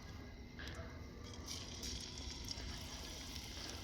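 Curry sizzling in a hot pan while cooking in a home kitchen, a faint, steady hiss with soft bubbling and occasional stirring noises.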